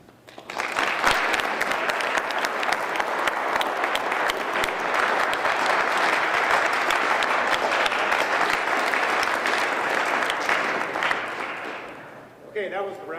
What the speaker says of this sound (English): that was the round of applause that meant something